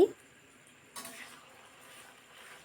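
Cauliflower stirred in a pan with a cornflour-and-water mixture: a scrape at the start, then a wet, soft sizzle and shuffling stir that continue quietly at a low level, with no speech.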